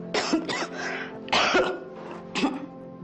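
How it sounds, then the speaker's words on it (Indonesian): A woman gives several light coughs and throat-clearing sounds, close up, in short bursts spread over a few seconds in an indoor drama scene. "Hanya batuk ringan."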